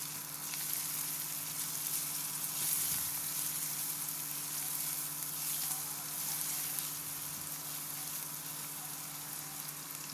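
Chopped onions sautéing in hot oil with whole spices for a pea kurma, giving a steady, dense sizzle and crackle that holds evenly throughout with no voices.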